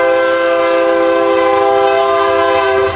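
A passing train sounds a loud, sustained horn for about three seconds, steady and close, with a rumbling rail bed beneath and no talking.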